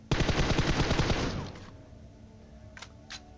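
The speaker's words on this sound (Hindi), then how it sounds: "लेकिन कालिया भैया के वेस्ट पे गोलियां पड़ती हैं" A rapid, loud burst of automatic gunfire in PUBG Mobile rattles for over a second, then cuts off, followed by a couple of faint clicks or light impacts.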